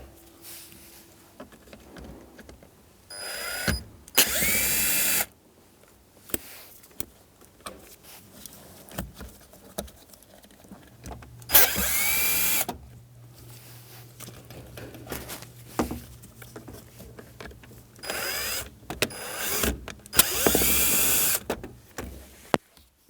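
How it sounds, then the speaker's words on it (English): Phillips screws being backed out of the shift boot trim on a 1992-1996 Ford F-150, heard as several separate bursts of close, loud screwdriver or tool noise with quiet pauses between them and a low steady hum partway through. "We'll remove those four Phillips screws now."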